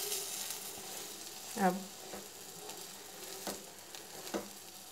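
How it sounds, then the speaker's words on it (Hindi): A cheese egg omelette, folded over, fries in a pan with a steady close sizzle and crackle, a few soft pops and scrapes, and one brief spoken word. "30 सेकंड के लिए एक साइड से फ्राई कर लें और 30 सेकंड के लिए दूसरी साइड से फ्राई कर लें"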